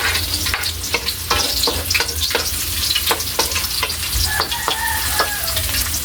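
Garlic and onion sautéing in hot oil for gisang ampalaya with scrambled egg, a steady close sizzle with repeated sharp scrapes and clacks of stirring throughout, no talking.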